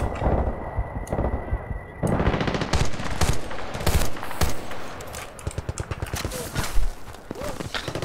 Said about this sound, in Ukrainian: ти що ти так стріляєш жорстко?